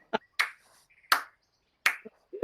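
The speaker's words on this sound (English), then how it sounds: "He's clapping. He's not clapping slow, like sarcastically." Slow hand claps, four sharp isolated claps spaced unevenly about a third to three-quarters of a second apart, close and crisp against silence, with a short vocal sound at the end.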